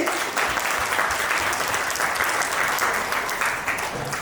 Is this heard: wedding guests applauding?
yes